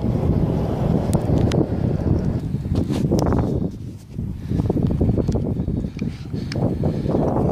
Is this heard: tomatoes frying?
no